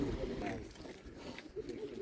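Pigeons coo softly and close by at a busy Polish pigeon market, their low throaty calls rising and falling over murmuring background noise.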